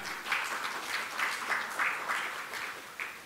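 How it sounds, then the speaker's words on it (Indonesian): Applause from an audience at an Indonesian Islamic finance event, a steady crowd clapping for about three seconds with a few louder swells and no talk over it. "Alhamdulillah, tepuk tangan."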